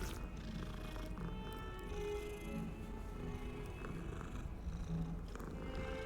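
A cat purrs steadily and close up in the Hogwarts Legacy video game, a continuous low rumbling purr with soft background ambience throughout.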